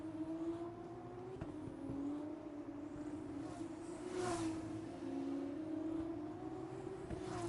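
Formula 2 cars run a formation lap at Bahrain in a racing game, giving a steady, faint engine drone with a wavering pitch and no sharp passes.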